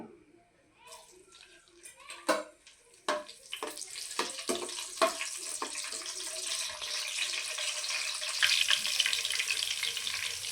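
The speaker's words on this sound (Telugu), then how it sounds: "ఆయిల్ ఎక్కిందండి ఇందులో పచ్చిమిరకాయలు వేసుకుందాము" Green chillies dropped into hot oil for egg rice crackle and sizzle with sharp pops and spatters, then settle into a steady, fairly loud frying hiss.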